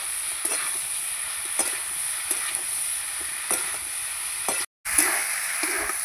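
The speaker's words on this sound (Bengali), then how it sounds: "আলু কাঁচকলার সঙ্গে মশলাটা কষিয়ে নেব।" Spices sizzle and fry with potato and green banana pieces in a pan while being stirred, a steady close hiss broken by scraping stir strokes and one brief cut to silence.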